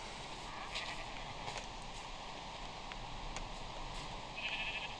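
Sheep in a Minecraft survival game bleat faintly over a steady background hiss, with soft short calls and a few light clicks spread across the clip.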